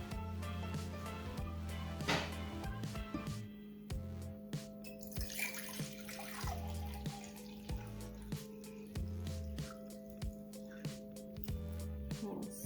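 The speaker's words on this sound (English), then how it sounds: "I'm gonna add water" Water pouring into a pot of rice for sushi rice cooked on the stove, a steady running splash behind music with repeated low notes, with a brief louder gush partway through.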